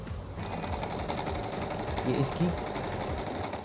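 A Janome J 639 domestic sewing machine stitching at its lowest speed setting. It makes a steady, fast, rhythmic mechanical whir and clatter close to the microphone, with a voice speaking over it.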